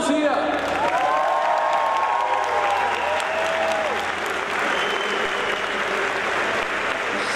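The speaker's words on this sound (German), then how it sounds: "dein Applaus hier!" Audience applause breaks out at a German talent-show-style event as a jury prepares to deliberate, sustained steady clapping filling the room for several seconds while a presenter's voice rises over it near the start.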